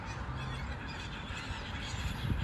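Canada geese and other birds at a big park lake, honking calls rising out of steady outdoor background noise, moderately distant, with no talking.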